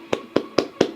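Four evenly spaced hand claps, sharp and fairly close, each one standing alone against a quiet background.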